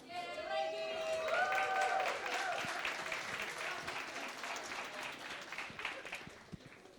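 Audience applause at a startup competition summit, steady broadband clapping from a crowd, with a voice and some tonal sounds faintly mixed in near the start before the clapping carries on alone and thins toward the end.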